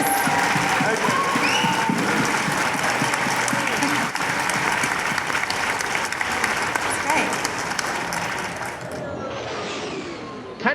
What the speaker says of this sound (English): Everybody give a massive round of applause to our Star Wars panelists.